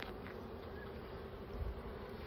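Honeybees buzz in a steady, dense drone around an open hive during an inspection of brood and capped honey, a continuous close hum with no break.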